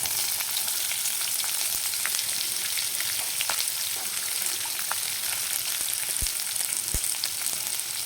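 Sliced onions frying in hot oil for mutton gravy, a steady loud sizzle running unbroken throughout with occasional sharp pops and crackles.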